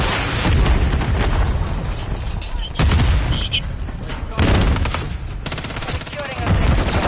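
Stun grenades and gunfire go off in Modern Warfare 3 combat, with a few sharp loud blasts over sustained bursts of rapid shots, close and intense, while voices speak through the chaos.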